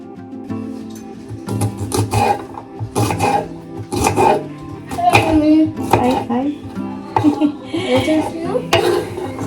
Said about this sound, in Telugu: ఫ్రై కోసం బీన్స్ చేస్తున్నాను